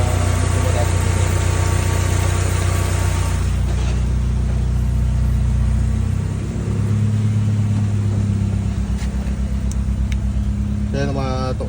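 A car engine idles at a raised speed, a steady loud rumble heard from close by inside the vehicle, with the pitch settling slightly partway through.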